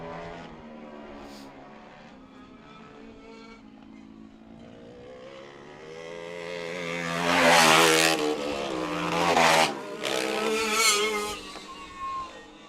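Two-stroke racing kart engines at a dirt speedway, probably PK, Bama or BRC motors, buzz and rise in pitch as karts come through the turns, swelling loud and close around the middle and fading between passes, with no talk.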